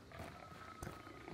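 Low, rumbling growls from hounds in the video game Hunt: Showdown, a faint continuous snarl with one sharper burst partway through, heard alone without talking.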